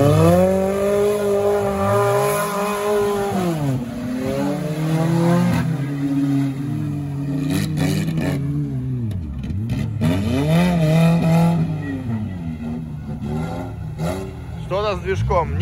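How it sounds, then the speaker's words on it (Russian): A Lada Niva off-road racing car's faulty engine, stalling with no idle, drones and revs unevenly on a hill course, its pitch rising and falling in long sweeps, loud and close throughout with voices talking over it. "Что-то с движком, нету холостых, глохнет, но едет."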